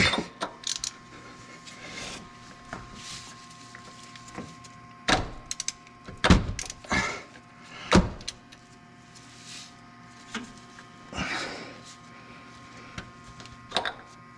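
A Toyota/Lexus oil filter wrench is tried on the oil filter of a 2021 Nissan Titan Pro 4x, giving scattered metallic clicks, clanks and scraping knocks of tool against filter at close range over a steady low hum.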